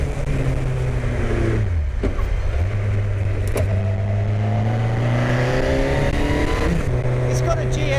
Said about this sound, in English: It's got a Suzuki GSX 1300R superbike engine